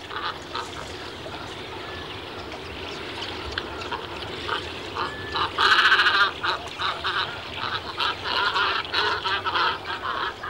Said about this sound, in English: Most of the noise here comes from the cormorants nesting close by.